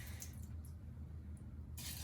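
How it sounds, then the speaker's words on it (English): Cold tap water runs steadily from a kitchen sink faucet into a rice cooker pot, a continuous close splashing rush with brief brighter spray bursts near the start and end. "And again, it's just cold water from the sink"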